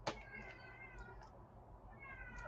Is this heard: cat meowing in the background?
yes